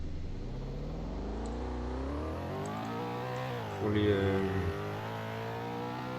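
Motorcycle engine in a GTA roleplay game, revving with pitch climbing and falling as it accelerates, a short louder burst midway, while someone talks over it.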